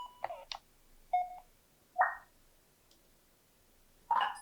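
Game Boy video game sound effects: a handful of short, separate electronic beeps and blips spaced over a few seconds, faint and in a quiet room with no talking.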